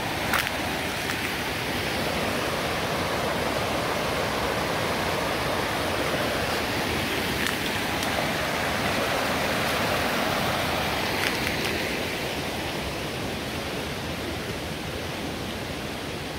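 A river stream at a riverside camping spot in Santa Catarina, southern Brazil, rushes in a steady, even wash of flowing water that holds unbroken and fairly loud throughout.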